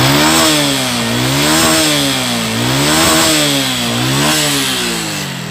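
A Honda Revo Fit motorcycle engine with a loose piston in the block revs up and down in steady repeated waves, loud and close, with a rough rattling edge.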